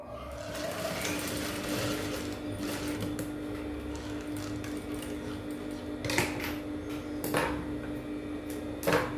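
A sewing machine runs along skirt fabric joined to its lining, a fairly quiet steady mechanical hum with a few sharper clicks and knocks of handling mixed in.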